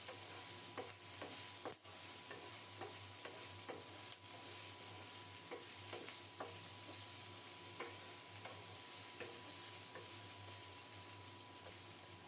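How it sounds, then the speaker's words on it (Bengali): Ridge gourd frying in a pan with potatoes, onions and sliced green chillies: a steady close sizzle of oil with regular scraping and clicking stirs throughout. "এখন কেটে রাখা ঝিঙ্গে দিয়ে দিলাম, সাথে 2-3টা কাঁচামরিচও ফালি করা দিয়েছি।"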